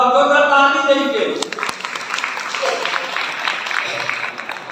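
A wedding congregation at a Holy Matrimony church service breaks into warm clapping that fades after a couple of seconds, then a voice speaks under the tailing applause.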